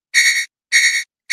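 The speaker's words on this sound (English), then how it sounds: "just had another alarm go off on the graph on another chart" A price alert alarm from a trading chart sounds as loud, harsh buzzing electronic tones in evenly spaced pulses, each about a third of a second, with silence between them.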